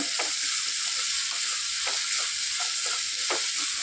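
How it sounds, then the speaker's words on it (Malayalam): Vermicelli upma, Kerala-style semiya uppumavu, sautés in a pan, with a steady loud sizzle and a rhythmic run of soft scraping stirring strokes, close and without talk. "നന്നായിട്ടൊന്ന് ഇളക്കി യോജിപ്പിച്ച് ഒന്ന് വഴന്ന് വരുന്നവരെ വെയിറ്റ് ചെയ്യാം"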